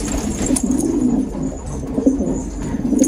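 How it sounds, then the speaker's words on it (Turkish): Soft, low cooing of a Maraş pigeon repeats in short rolling phrases, close by, with faint background hiss and no talking. "Güzel Maraş kuşu."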